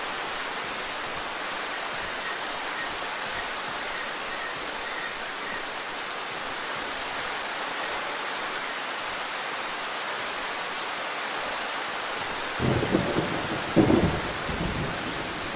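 Loud, constant rain pours down in the horror game Darkwood, a dense wash of noise, and near the end a couple of rumbles of thunder roll in. No one speaks.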